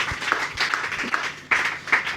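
A church congregation claps in scattered, uneven bursts, a few hands close by at moderate volume, with no voices over it.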